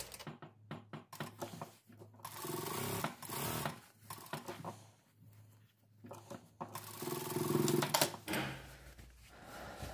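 A sewing machine running fast stitches on a cuff for a shirt dress, in bursts of steady rapid whirring separated by short pauses, moderately close and quiet.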